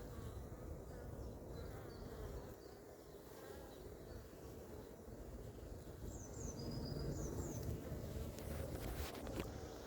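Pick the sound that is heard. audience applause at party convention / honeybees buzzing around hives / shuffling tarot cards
honeybees buzzing around hives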